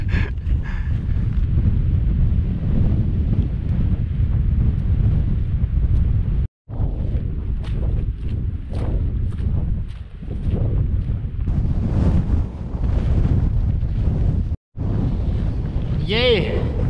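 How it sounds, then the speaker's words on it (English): Strong wind buffets the microphone on a hike up Earl's Seat in the Campsie Fells, a loud continuous low roar with two brief dropouts and gusty surges throughout. "Pretty windy."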